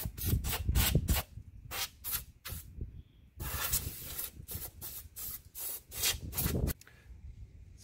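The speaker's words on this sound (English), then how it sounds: "And then I'm gonna spray a rust killer on there" Repeated short bursts of spray hissing from an aerosol can of rust killer sprayed onto a rusted metal truck fender, several quick sprays then a longer continuous one, close by with no talking.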